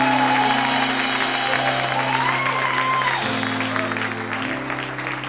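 A church congregation applauds and cheers during a worship service, a steady dense wash of clapping with sustained tones from instruments or voices running underneath, loud and continuous throughout.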